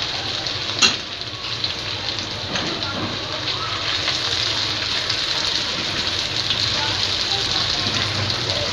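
Onion, capsicum and carrot frying with ginger-garlic paste in a pan for chicken Manchurian, a steady loud sizzle running continuously under a speaking voice.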